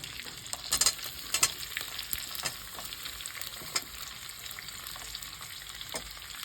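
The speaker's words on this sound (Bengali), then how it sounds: "এর মধ্যে দিয়ে দেবো। এই কাটা ক্যাপসিকামগুলো," Chopped capsicum frying in hot oil for chili chicken, a soft steady sizzle with a few sharp clicks and scrapes from stirring, close but fairly quiet.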